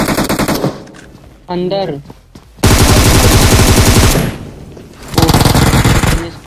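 Rapid automatic gunfire bursts in a video game shooter, loud and close, coming in several long rattling volleys with a brief shouted voice between them.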